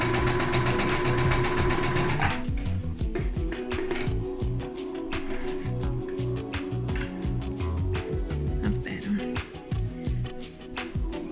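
Home sewing machine stitching fabric to test long and short stitch lengths, a loud steady whirring run first, then a slower uneven stretch of rhythmic mechanical clicks and thumps.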